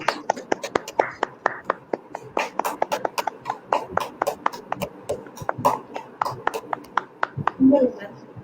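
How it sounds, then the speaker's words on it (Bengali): A handful of people clap in uneven, sharp bursts at a coronavirus guidance talk, each slap crisp and close, the clapping loosely scattered rather than unified over several seconds. "করতালি দিয়ে আমাদের সাথে যুক্ত হন।"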